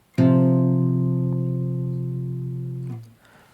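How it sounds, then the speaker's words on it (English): Two guitar notes played together ring as a steady perfect fourth interval, decaying gradually for a few seconds before being muted. "in comparison to how the fourth interval sounds like"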